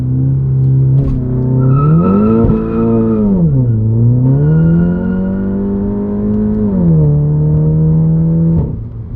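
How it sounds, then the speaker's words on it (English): A front-wheel-drive Volkswagen GTI with a Unitronic Stage 2 tune revs hard on launch control and holds high, its pitch rising and dipping as it launches, with a tire screech mixed in; loud and close. "It's gonna make a lot of noise, tire screeches."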